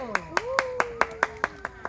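Nine evenly spaced handclaps, a slow steady beat from a small outdoor audience at a community eco-theatre performance in a park, with a voice and a sliding tone running beneath.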